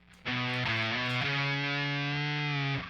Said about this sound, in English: The fuzz pedal is just dimed because we need a lot of gain for what we're trying to do.